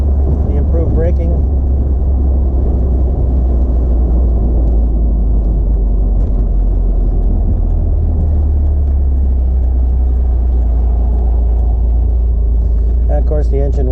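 Rebuilt engine of a 1980 Fiat Spider on a test drive, a steady low rumble with road and wind noise, loud and continuous throughout.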